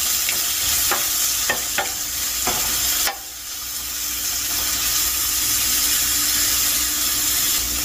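Vegetables sizzle and fry steadily in a pan while a utensil stirs and scrapes them in a few quick strokes early on, the frying continuing alone afterward.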